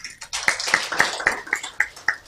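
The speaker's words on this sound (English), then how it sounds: "Can we clap hands for them?" Scattered audience members at a live-streamed audit organisation event clap their hands in a loose, fairly slow rhythm. Each clap rings out distinctly, close and moderately loud.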